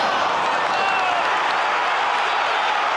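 A packed stadium crowd at an Arsenal versus West Ham United Premier League match in the 2005-06 season keeps up a dense, steady roar that stays loud and unbroken throughout.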